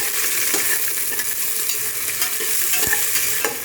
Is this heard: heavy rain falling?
no